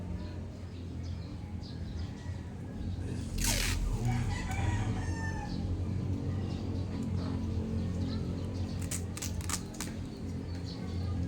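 A live chicken crows and clucks outdoors, with one clear rooster crow rising early and scattered calls after it, moderately near, over a constant, noisy rumbling background.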